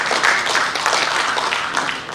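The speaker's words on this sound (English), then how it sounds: "round of applause" Round of applause from an audience at a Cash FX Malaysia launch event, a steady wash of clapping that holds at a fairly even level throughout, with no voices standing out over it.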